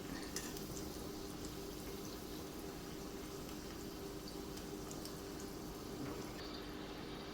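A potato cheese ball frying in hot oil, giving a steady dense bubbling sizzle that holds close and even throughout with no talking.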